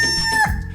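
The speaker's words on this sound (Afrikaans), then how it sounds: "en 'n hoender." A rooster on a farm crows loudly and close, one sustained bright call that breaks off with a lower clucking tail.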